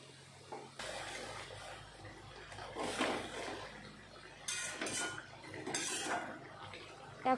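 Prawn curry being stirred in a cooking pan, with scraping and clinking of a spoon against the metal and water poured in; irregular bursts of clatter over a quiet background, no talk.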